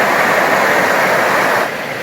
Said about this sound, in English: the sound of that river